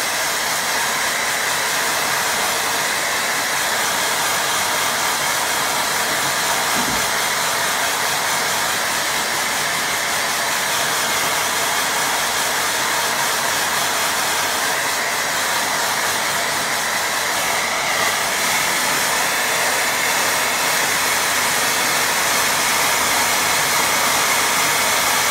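A hair dryer blows steadily on a watercolour painting of winter trees, a loud and constant whooshing hiss that runs throughout without a break.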